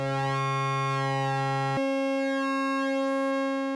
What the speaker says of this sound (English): let's turn off this oscillator so we only hear the one that's being synced.